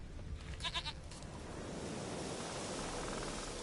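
A short series of nasal goat bleats in The Witcher 3 video game, several quick pulses, sounding somewhat distant over a steady wash of wind-like noise.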